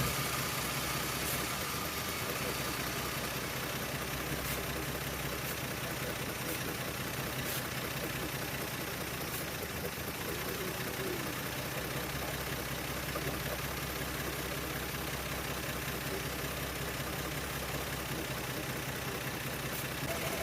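A 1975 Plymouth Duster engine idles after a carburetor adjustment, holding a steady low rumble with an even mechanical drone, distant-sounding and unchanging across the whole stretch, with no voices.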